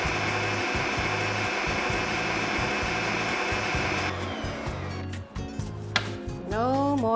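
A Bosch food processor shreds onions through its fine disc, a loud steady motor whir with a rhythmic chopping pulse that runs continuously, then sputters briefly toward the end with a few sharp clatters before resuming.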